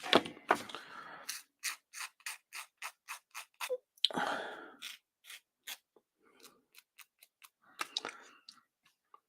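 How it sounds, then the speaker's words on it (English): Parts of a MiniArt Bantam plastic model kit are snipped off the sprue with cutters: a quick series of sharp, close clicks and snips in an irregular rhythm, with short scraping rasps between them and quiet pauses. "And then we need to cut these bits off here."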